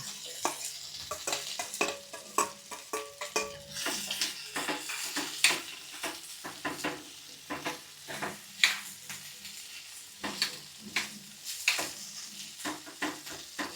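Potatoes fry with roasted green chilli paste in a pan, a soft sizzle under repeated scraping stirs of a spatula in an irregular rhythm, close and fairly quiet, with no voices.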